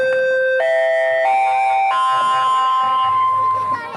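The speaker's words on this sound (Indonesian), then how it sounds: "Bunyi bel istirahat pun berbunyi." An electronic school break bell plays a sustained chime melody in stepped tones, loud and close, lasting several seconds and fading at the end.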